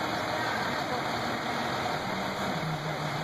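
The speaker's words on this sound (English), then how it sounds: "the noise of the engines of the parade" Engines of parade vehicles idling and rumbling at a small-town parade in Lumpkin, Georgia, a steady low drone with a constant hum, continuous and fairly close, fading out at the very end.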